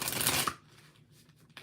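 Tarot cards riffle quickly in a short, crisp shuffle up close, followed by quiet rustling and a soft tap.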